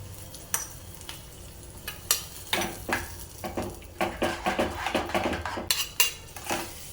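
Fenugreek leaf pulao is stirred in a pan with a metal spoon, giving irregular scraping clinks and soft rustling over a faint background sizzle, the strokes growing quicker and denser toward the end.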